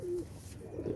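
Teddy pigeons at a breeder's loft give a soft, close low coo that swells and fades over about a second, with a fuller cooing phrase rising near the end.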